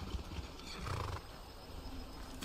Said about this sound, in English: Horses come with us.